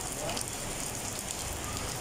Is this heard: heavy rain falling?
yes